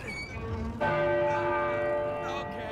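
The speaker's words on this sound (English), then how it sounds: "So this bell goes ding-dong," A large bell in the Uncharted 4 video game rings once with a sharp strike, then a long, bright resonant hum that slowly fades, heard clearly without talk.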